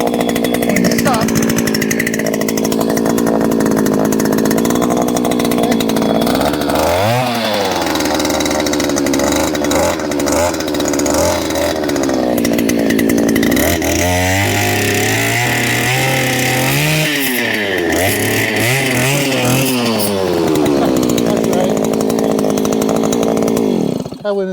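72cc gas-powered auger boring a fence post hole, its two-stroke engine roaring loud and close, dipping and surging in pitch as the bit bites into the soil and load changes, running continuously throughout.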